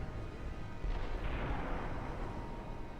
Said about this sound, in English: I think that's a torpedo hit.